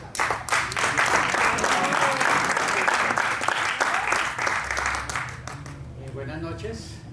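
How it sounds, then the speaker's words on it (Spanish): Audience applause welcoming Noel Ospina at a literary evening, a dense steady clapping that fills about five seconds before thinning out and fading, with a voice beginning to speak near the end. "vamos a recibir a Noel Ospina con un fuerte aplauso"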